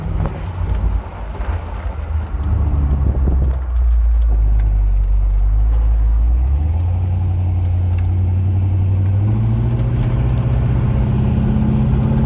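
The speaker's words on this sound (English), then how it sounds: "we'll take off again so you can hear it shift through the gears" A 1970 Oldsmobile Cutlass convertible with a 350 engine pulls away, its low exhaust drone climbing in pitch, dropping at a shift and rising again as it runs up through the gears, steady and close with wind noise over it.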